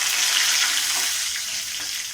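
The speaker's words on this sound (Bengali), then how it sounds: "সর্ষের তেলটার মধ্যে একটু জিরে, কালো জিরে, আস্ত গরম মশলা ফোড়ন দিলাম" Whole cumin, black cumin, bay leaves and whole garam masala spices sizzle steadily in hot mustard oil, a close, continuous bright crackle with no voices.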